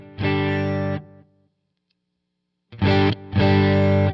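Electric guitar runs through a Jackson Audio Prism boost pedal into an amp, with loud sustained chords in short bursts separated by a brief silence.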